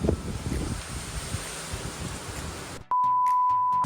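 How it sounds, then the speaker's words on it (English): Wind blows outdoors in Pensacola, Florida, a steady rushing buffet across the microphone for nearly three seconds before it cuts off abruptly to a sustained beep tone. "This wind."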